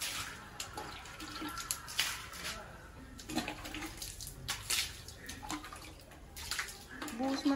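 Water is poured and sloshed over a floor to wash away dust, with repeated splashing gushes and running water, while people talk nearby throughout.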